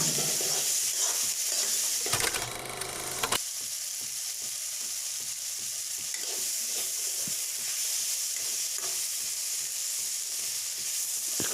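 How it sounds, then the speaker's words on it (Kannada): Loud, steady frying sizzle of okra browning in a pan for okra masala, with a dense hiss running throughout and a brief stir-like scrape break early on, no voices. "ಫುಲ್ ಬ್ರೌನ್ ಆಗಿರಬೇಕು ಚೆನ್ನಾಗಿ ಫ್ರೈ ಮಾಡ್ಕೋಬೇಕು"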